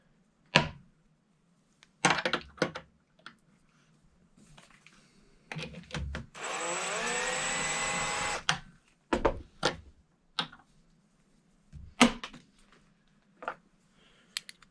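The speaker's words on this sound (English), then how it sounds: "we can go ahead and start trimming some brass" A brass cartridge case trimmer cuts 224 Valkyrie brass, giving scattered sharp clicks and ticks from handling plus one sustained two-second grinding whirr of the cutter, all close and quiet against a faint hum.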